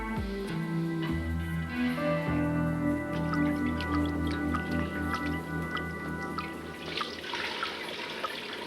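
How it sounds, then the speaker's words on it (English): Water drips steadily and close, with small wet plinks and squishy splashes over a low background hum, and no one speaks. "I say the drips are slowing."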